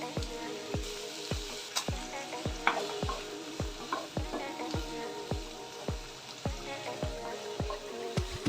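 Tomatoes and dried red chillies fry for mutton chukka, a close sizzle broken by a regular rhythm of spatula knocks against the pan roughly every half second, fairly soft, no talking.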